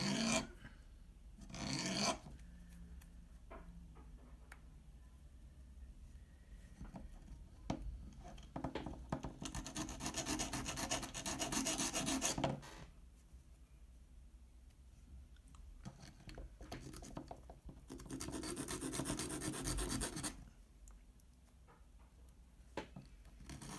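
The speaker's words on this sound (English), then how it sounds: "The first thing to do is to remove some burrs with the file." A hand file rasps burrs off the edge of an OSH Park printed circuit board for an MPU-6050 Arduino shield, in two loud bursts of steady scraping strokes separated by quieter handling.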